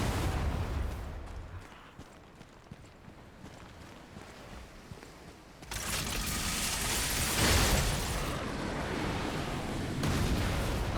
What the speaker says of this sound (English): someone's firing cannons at me